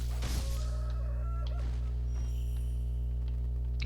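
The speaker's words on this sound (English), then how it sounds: "And kill this chicken." Chicken in the Sekiro video game being struck and killed: a sharp hit near the start with a short squawk and clucking, followed by scattered faint clucks and game effects over a steady background hum.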